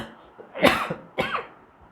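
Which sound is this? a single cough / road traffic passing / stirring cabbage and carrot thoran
a single cough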